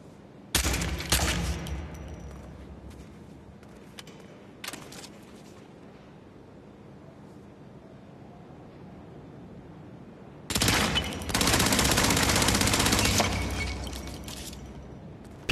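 Automatic gunfire in Hitman 3 VR, with two short bursts early on, then a long, loud sustained burst near the end and quiet room tone in between.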